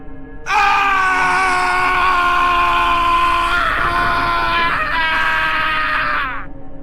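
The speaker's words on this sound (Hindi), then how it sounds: "ऑटो ड्राइवर की जोरदार चीख सुनाई दी।" An auto-rickshaw driver lets out a long, loud, sustained scream that wavers in pitch for several seconds before trailing off.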